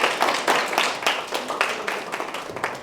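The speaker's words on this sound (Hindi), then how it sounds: "इनके लिए ताली बजा दो यार, हमारे तीनों स्टूडेंट्स के" Audience clapping for three students at an anatomy teaching session, a dense, steady patter of many hands that runs the whole time at moderate loudness and tapers slightly toward the end.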